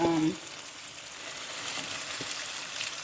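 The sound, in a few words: lamb pieces searing in a pan for stew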